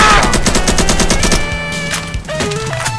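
Rapid automatic AK-47 fire from the Roblox game Evade, loud and continuous bursts of closely spaced shots across the whole stretch, with no voices.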